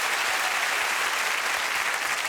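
Studio audience at a British chat show claps steadily and densely throughout, a continuous close wash of applause with no talk over it.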